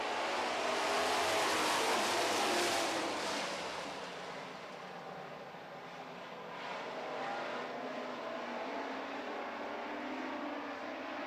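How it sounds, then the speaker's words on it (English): Super trucks race around a track, a faint, distant roar of engines swelling as they pass and then settling into a steady drone, with no commentary heard. "We're racing in the Super Trucks."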